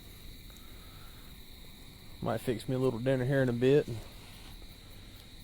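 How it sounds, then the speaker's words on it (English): A thin, steady high-pitched trill of crickets chirping at night by a creek continues in the background while someone speaks briefly nearby. "Listen to the owls hooting and the crickets are chirping."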